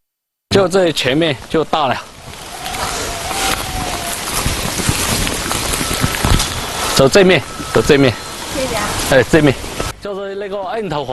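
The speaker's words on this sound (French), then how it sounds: "Il pleut de plus en plus fort." Steady heavy rain hisses throughout in a bamboo town in Datong, with a person speaking over the downpour near the start and end.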